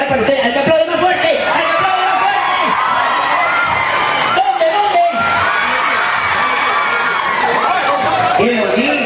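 A live radio studio audience cheers, whoops and shouts in a loud, continuous crowd roar with scattered excited voices, sustained throughout without a break.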